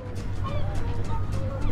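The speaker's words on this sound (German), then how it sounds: "Hier sitzt eine Möwe." Gulls on a beach at Büsum call several times in short, scattered cries. The calls sit faintly over a steady hum of ambient noise.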